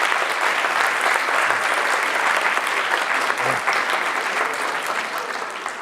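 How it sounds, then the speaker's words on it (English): Sustained audience applause in a lecture hall at Boston University, a dense, loud, even wash of many hands clapping that holds steady and tapers slightly toward the end, with no talk over it. "Can we all have a round of applause for Mr. Stone?"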